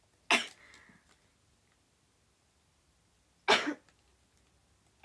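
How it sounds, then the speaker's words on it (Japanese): An NGT48 idol sneezes from tomato soup powder, giving sharp isolated bursts separated by long quiet gaps. "トマトのスープの粉でくしゃみ出た。"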